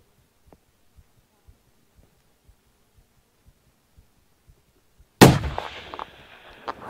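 A single loud rifle gunshot cracks out during a steep-country bear hunt, a sharp blast followed by a rolling echo, after several seconds of faint rhythmic thumping.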